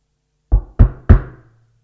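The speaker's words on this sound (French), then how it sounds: "Ce n'était que le facteur qui frappait à la porte." A postman knocks on a front door: three sharp, solid raps in quick succession, close and loud against silence.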